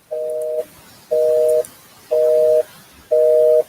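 A telephone busy signal interrupts a live online workshop, four evenly spaced loud tone bursts of about half a second each with short gaps between, over faint room noise and no talking.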